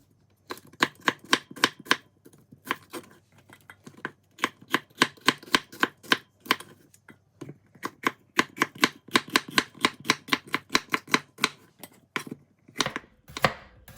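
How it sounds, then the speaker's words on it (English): A knife chops rapidly on a cutting board, sharp rhythmic taps in quick runs with brief pauses, close and clear. "let's get started by chopping all my vegetables"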